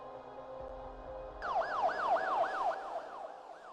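An ambulance siren wails in rapid rising and falling sweeps, starting partway through after a low rumble and continuing steadily, fairly prominent and fading slightly toward the end.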